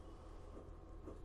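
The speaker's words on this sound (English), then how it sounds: "So we'll just take a look at the train here as it comes by." A model Amtrak train with Surfliner cars rolls past, a soft steady rumble of wheels on track, faint and continuous throughout the short stretch.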